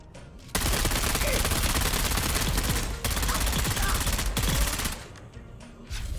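A disruptor gun in the video game Dune Awakening fires in a dense, rapid, sustained burst lasting several seconds, loud and harsh, with brief breaks in the barrage near the middle and end.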